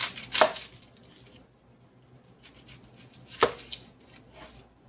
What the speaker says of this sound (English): So I'm just going to take my 4 big Vidalia onions. Take the tops off.